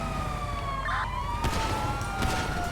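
A wailing police car siren in the video game GTA, with steady rising and falling tones, continuous and fairly loud, under a busy mix of engine noise and game sounds.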